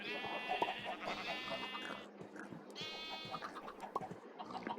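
Sheep in the game Animal Craft bleat twice, with clear, drawn-out bleats over a soft, busy background, fairly faint and with no speech.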